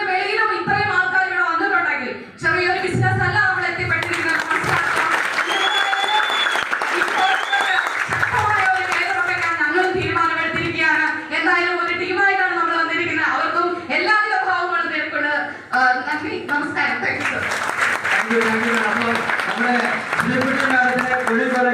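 An audience claps in sustained applause to welcome leaders onto a stage at a motivational event, and a loud voice speaks over the clapping the whole time.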